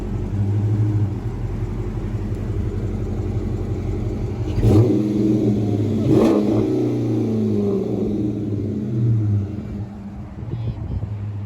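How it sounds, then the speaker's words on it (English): A Chrysler 300 engine with Flowmaster mufflers and 5-inch tips rumbles at idle, then revs sharply twice with a deep, throaty growl before settling back to a low rumble. "He just revved it."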